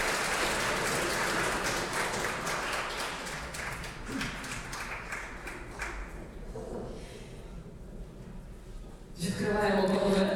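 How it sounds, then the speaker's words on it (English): A ceremony audience at an open data award event claps in a sustained, dense wash of applause, fading slightly mid-way and swelling loudly again at the close; speech is also heard. "So have a round of applause for all of you."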